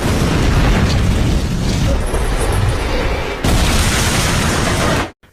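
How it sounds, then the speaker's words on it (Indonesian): A car falling down a lift shaft and exploding in a hacker action film: a loud, roaring blast that rumbles on for several seconds, then cuts off abruptly. "mobil itu terjatuh bersama Mai dan meledak saat itu juga"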